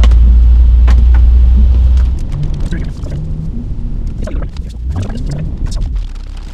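BMW X3 M40i SUV engine on the streets of NYC: a loud, deep engine roar swelling strongly for the first two seconds, then settling into a lower rumble with a voice talking over it.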